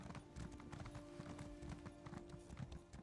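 A horse's hooves clopping on stairs in the video game Elder Scrolls Online, a quick, uneven run of hard clip-clop steps, quiet and close, with no talk over them.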